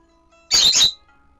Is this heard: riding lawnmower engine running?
no